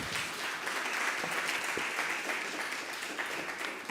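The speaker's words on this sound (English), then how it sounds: "Please keep the applause running for our lovely keynote speaker, Mrs. Betty Ann Blaine." An audience applauds a keynote speaker at a live event, steady sustained clapping from many hands heard at a moderate distance.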